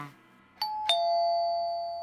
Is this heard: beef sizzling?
no